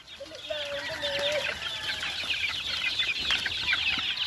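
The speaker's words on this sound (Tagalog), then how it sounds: "gutom na po yung mga piso natin o mga chicks natin. Chicks na panabong." Hungry gamefowl chicks on a farm chirp and peep in a steady, busy chorus, close and fairly faint, with a few clearer rising calls near the start and no talk.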